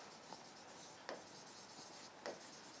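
Pen writing an answer to a biology question, a soft steady scratching with three brief sharper strokes spaced about a second apart, close and quiet, without talk.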